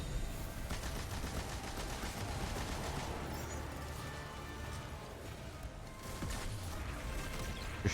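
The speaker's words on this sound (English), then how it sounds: "Just shooting everywhere." Chaotic video game firefight with shooting everywhere: continuous rattling gunfire and crashes pile up at steady loudness for the whole stretch, fairly quiet overall with no talk.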